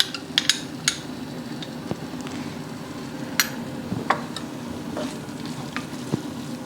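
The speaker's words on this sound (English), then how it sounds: "I'm going to add tomato paste now" Tomato paste going into a hot pan of onion, garlic and ginger for chickpea curry, sizzling and frying steadily while a utensil stirs and taps against the pan with scattered sharp clicks.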